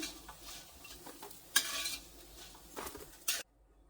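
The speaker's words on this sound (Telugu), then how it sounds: "మళ్ళీ ఉన్న పీసెస్ అన్నింటినీ ఫ్రై చేసుకుంటున్నాను" Bread pieces frying in ghee in a pan for a jaggery double ka meetha sweet, with a low sizzle broken by several clattering stirs and scrapes of a utensil, then sudden quiet.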